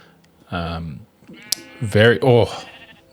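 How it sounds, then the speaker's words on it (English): Sheep bleating in a Minecraft-like blocky survival game, one drawn-out baa followed by two more bleats in quick succession, close and clear, with a brief click between them and no talking. "Because did you hear that sheep? You hear that baa?"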